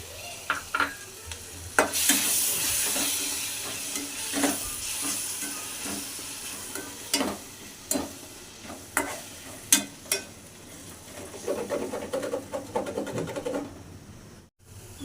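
Ground tomato paste frying in a pan for a North Indian green chili dish, a soft sizzle broken by repeated spoon scrapes and taps as it is stirred; close and quiet, with no voices.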